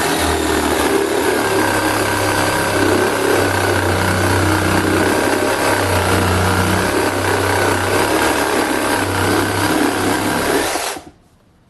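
Small cordless reciprocating saw with a coarse pruning blade cutting soft wet timber: a loud, steady motor drone with buzzing blade strokes running continuously for about eleven seconds, then stopping abruptly.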